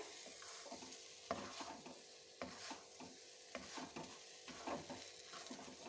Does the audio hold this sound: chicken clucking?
no